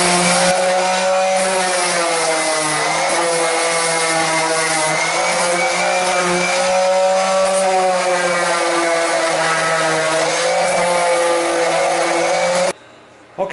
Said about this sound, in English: now I'm going to start to sand this